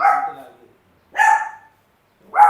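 Pomeranian dog barking, three separate yaps spaced about a second apart, close and clear, with nothing else in between.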